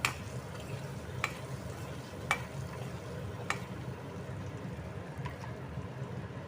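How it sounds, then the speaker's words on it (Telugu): Bottle gourd fries with turmeric, salt and chili powder, a soft steady sizzle broken by a few sharp clinks of a stirring spoon against the pan. "వేసి ఈ విధంగా ఫ్రై చేస్తాం"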